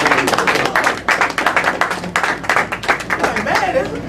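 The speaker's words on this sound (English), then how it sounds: "Please give Mr. Darryl another, student Mr. Darryl another round of applause" An audience at a student address gives another round of applause, a dense, steady patter of many hands clapping close by for several seconds, with no voice over it.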